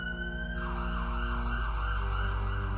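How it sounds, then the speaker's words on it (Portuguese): An ambulance siren wails loud and steady, its tone sweeping up and down over a low rumbling vehicle drone, with no voices heard. "Eles chamam a ambulância."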